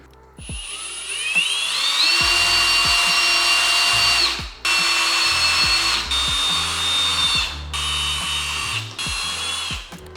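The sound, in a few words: drilling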